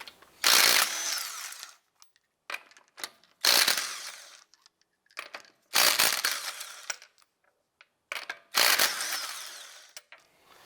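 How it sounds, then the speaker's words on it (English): A 19mm socket on an impact wrench removes lug nuts from the front wheel of a 2004-2008 Acura TL, sounding as loud, close, rattling bursts of about a second each, five main ones with short gaps and a few smaller blips, no speech. "Using our 19mm socket, let's go ahead and remove our lug nuts."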